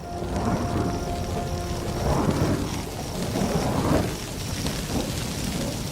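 Thunder from a lightning storm over dry grassland: deep rolling rumbles swell and fade in several loud waves, with a steady hiss like rain beneath and a faint repeating high tone.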